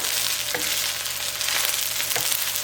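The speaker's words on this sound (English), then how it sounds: "And now you can mix the whole thing together." Hawaiian fried rice sizzles and crackles steadily in a hot pan as it is stirred, with a few soft scraping strokes of a utensil over the continuous frying hiss.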